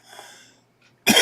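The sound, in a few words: cough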